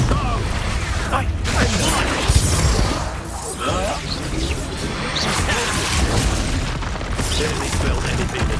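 Expulso spell explosions during Hogwarts Legacy combat: booming blasts and crashes with whooshes and creaks rise out of dense, continuous battle noise, and a voice can be heard through the din.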